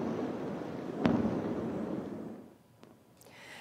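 Airstrike explosions in southern Gaza boom in a heavy rumbling blast with a sharp crack near the start, then a fainter distant pop and a rolling fade.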